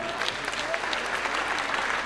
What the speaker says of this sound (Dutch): Ja, maar we geven ze toch een applaus, nietwaar?